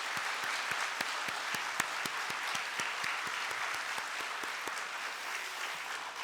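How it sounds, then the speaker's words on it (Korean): A church congregation claps together at a New Year's Eve service, steady dense applause with sharp individual claps throughout, loud and sustained with no voices over it. "석분 권사님, 참 감사의 마음을 담아서, 그리고 또 건강하시기를 바라는 마음으로 우리 박수하면 좋겠습니다."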